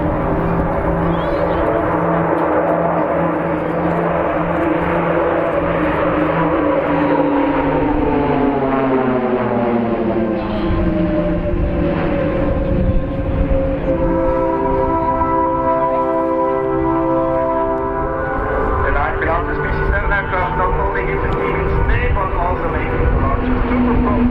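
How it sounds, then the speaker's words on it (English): Swiss Air Force PC-17 propeller aircraft in a flying display at RAF Cosford Airshow, a loud sustained engine drone with pitch sweeping as it passes, and an announcer talking over it. "please welcome the great and unique Swiss Air Force PC-17"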